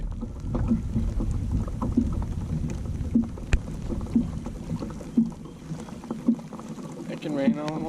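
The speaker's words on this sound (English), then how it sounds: "Ooh, it's raining." Rain patters on water and a small fishing boat on a rainy outing for speckled trout, with regular light knocks against the hull.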